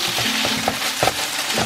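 Beef searing in a hot pan for beef and broccoli, a steady close crackling sizzle with small stirring clicks and pops.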